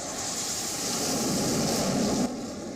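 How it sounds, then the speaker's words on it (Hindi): Sukhoi and Mirage fighter jets fly over the Purvanchal Expressway with a loud, steady, broadband roar that swells slightly and then drops off abruptly near the end. "तो विमानों की गर्जना आप जरा सुनिए"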